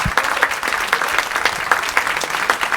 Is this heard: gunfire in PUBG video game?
no